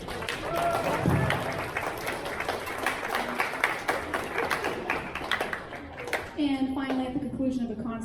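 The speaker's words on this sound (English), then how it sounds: "And please give yourselves a round of applause, not just Mr. Tran, but all of you." Applause from an audience at a school orchestra concert, a steady wash of many hands clapping for several seconds with a few voices mixed in before it thins toward the end.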